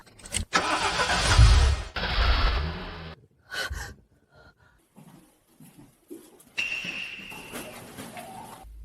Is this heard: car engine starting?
yes